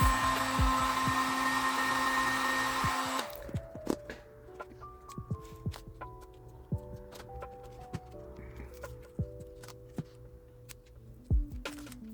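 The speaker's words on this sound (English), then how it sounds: "just get your heat gun again, warm it up, and just tuck them off." A heat gun blows a steady loud hiss while warming resin edges on a coated piece, then cuts off, leaving quiet handling knocks and light tapping with a faint low hum.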